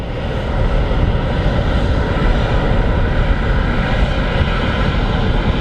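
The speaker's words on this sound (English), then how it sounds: "Little Embraer." Embraer passenger jet at Manchester Airport, a continuous loud rumbling engine roar heard at a distance, steady throughout without talk.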